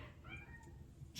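A cat gives a single soft meow, faint and slightly distant, against a quiet indoor background with no talking.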